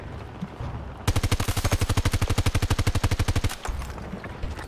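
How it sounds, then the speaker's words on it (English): An enemy vehicle's automatic gun in the video game Battlefield 2042 hammers out a long, steady, rapid burst of evenly spaced heavy shots, loud and close, then stops abruptly, with quieter game ambience before and after. "there is a vehicle that's shooting at me there."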